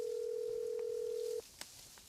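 Phone ringing unanswered during a call: one steady electronic tone lasting over a second, then cutting off into faint room noise, with no talk.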